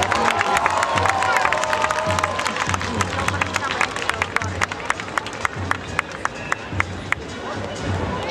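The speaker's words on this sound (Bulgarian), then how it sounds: "Аплодисменти за бразилците!" A large outdoor crowd at the Gabrovo carnival claps and cheers for a Brazilian group, dense applause building to sharp, closely spaced claps, mixed with crowd babble and shouts.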